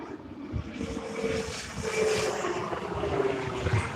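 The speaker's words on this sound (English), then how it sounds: "Airport, plane above my head yet?" An airplane passes overhead just around the corner from the airport in Sioux Falls, South Dakota, a steady, loud engine roar and rush that swells slightly, with no talk.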